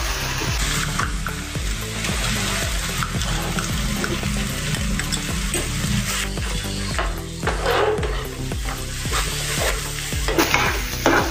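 Ground masala paste for dum aloo sizzles steadily with cooked onions in a hot frying pan, with constant crackling and the scrape of stirring throughout.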